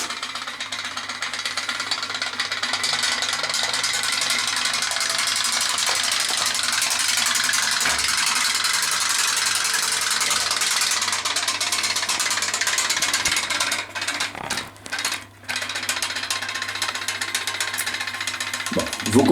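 Steam engine running on a radio-controlled model boat, a steady, loud mechanical chugging and hiss that continues throughout, with a brief stutter near the end.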